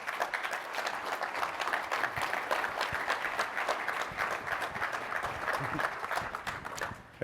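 Audience applause fills a conference hall at a corporate tech event, steady dense clapping at moderate level for several seconds before tapering off at the end, with no talk over it.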